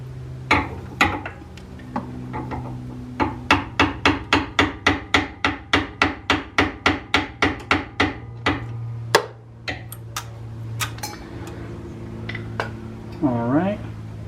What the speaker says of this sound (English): I think I might just tap one side down.